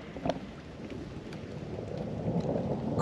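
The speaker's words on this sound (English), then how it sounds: "I'm just waiting on some raindrops. And there they are." Rain and thunder in the Florida Everglades: a low rumbling thunder roll swells beneath steady rainfall and wind, growing louder toward the end.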